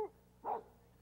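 A single bark from a coon dog, a prize-winning hound female, one short mid-pitched bow-wow rising briefly above a quiet indoor background.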